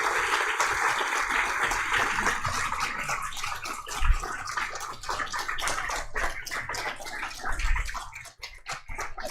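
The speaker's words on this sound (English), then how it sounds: "Big applause." Sustained crowd applause after a music performance at a temple's 20th anniversary Sunday service, a dense wash of clapping that runs the whole time with a few louder low thumps and no talk.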